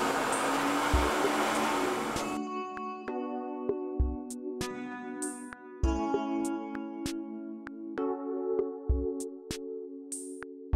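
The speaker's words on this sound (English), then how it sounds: "the most high-tech thing here are the hand dryer things" A campground restroom hand dryer blows with a loud, close rush for about two seconds and then cuts off, leaving quieter tonal sounds with periodic thumps.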